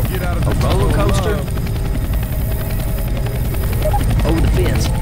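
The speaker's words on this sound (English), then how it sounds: "A chopper!" A helicopter arrives in the zombie shooter Left 4 Dead 2, its rotor a loud, continuous chopping thrum that fills the scene, with voices talking over it.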